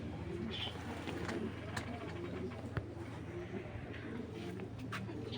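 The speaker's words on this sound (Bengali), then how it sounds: "কবুতর দুইটা আমি আবার দেখাচ্ছি আপনাদের" Racing pigeons coo softly at a Bangladeshi pigeon dealer's loft, low repeated murmuring calls with scattered chirps over a steady background hum, faint and at close range.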